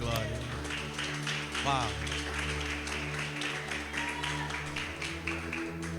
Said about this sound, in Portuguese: Aplauda Jesus, o Rei da Glória.